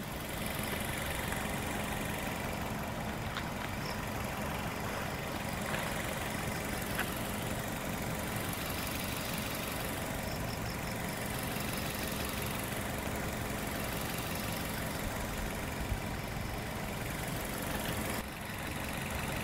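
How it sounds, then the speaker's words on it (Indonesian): A 2018 Suzuki Baleno 1.4 automatic idles steadily with an even, low hum and a faint mechanical whir, heard close and alone with no talk over it. "Untuk suara mesinnya kita dengarkan dulu ya secara seksama ya, kurang lebih 10 detik dari sekarang."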